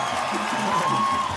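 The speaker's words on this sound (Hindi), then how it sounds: "एक बार जोरदार तालियां हो जाएं" Studio audience on The Kapil Sharma Show applauding and cheering, a continuous crowd roar with clapping and whoops at moderate loudness, a faint tone running briefly through it.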